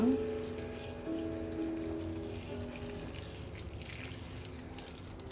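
Water sprinkled from a watering can onto freshly planted vegetables, a steady splashing wash with faint tonal ringing from the can, running continuously for a few seconds at close range.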